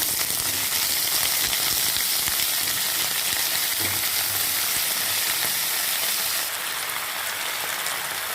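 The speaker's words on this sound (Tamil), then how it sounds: "நீட்ட நீட்டமாக அந்த காய்கறிகளை இதோட ஆட் பண்ணிக்கலாம்" Long-cut vegetables for avial drop into hot coconut oil and fry with a loud, steady sizzle close by, with faint stirring clatter underneath and the crackle easing slightly near the end.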